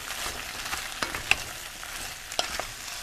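Curry chicken with curry powder frying in a pan, stirred with soft scrapes and small clicks over a constant close sizzle, no talking.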